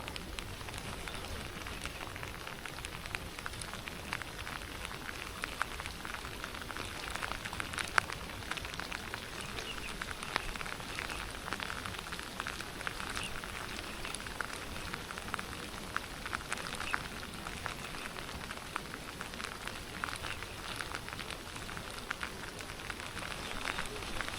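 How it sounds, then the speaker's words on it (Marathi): Steady rain falls during a lure fishing outing, a dense, even patter and hiss that holds at a constant moderate level for the whole stretch, with no voices. "पाऊस पण बंद होत नाही आहे"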